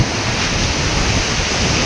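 Stormy Black Sea surf pounding a rocky cape on a windy winter day, a steady loud roar of breaking waves mixed with wind buffeting the microphone, no voices.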